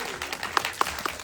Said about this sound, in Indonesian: Tepuk tangan dong boleh.